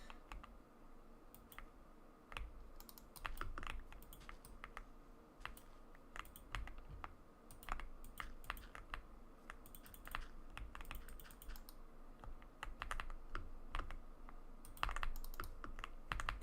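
Computer keyboard keys clatter in quick, uneven flurries, near and crisp, with brief gaps and some heavier thumps from larger keys. There is no talking, only steady typing.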